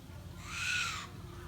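A single bird call, a smooth rising and falling hoot-like tone held for about half a second, clear against a low background murmur.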